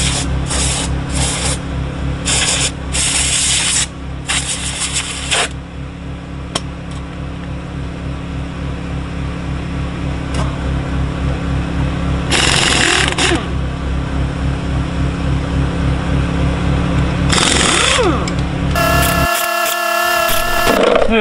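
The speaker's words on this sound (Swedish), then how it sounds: "Nu ska jag starta igång min gamla trogna bensinkompressor." An old petrol-powered air compressor running steadily with a constant engine drone and hum, loud and close, broken by intermittent hissing bursts of air and a louder burst near the end, with no talking.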